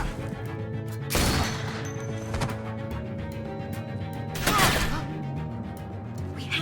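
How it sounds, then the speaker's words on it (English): Bursts of gunfire erupt twice in The Walking Dead video game, each a dense crash-like volley lasting about half a second, over a steady musical game soundtrack. "I hear gunfire."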